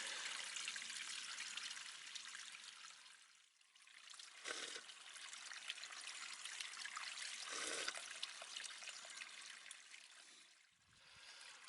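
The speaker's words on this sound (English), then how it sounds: "Look at that. A little spring." A small hillside spring on Little Mountain near Hay-on-Wye trickles close by, a continuous bright splashing and dribbling that swells and dips slightly, with no voices.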